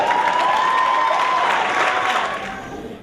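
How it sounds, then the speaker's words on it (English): An audience at a college scholarship awards night applauds steadily with a thin, sustained tone ringing through the clapping, which fades slightly before cutting off. "Give him another round of applause"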